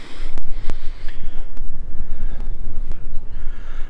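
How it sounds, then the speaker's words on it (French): Wind buffets a microphone in Gibraltar in a steady low roar, gusting and rumbling throughout with occasional sharp clicks. "il y a un peu de vent, j'ai bien fait de prendre le micro"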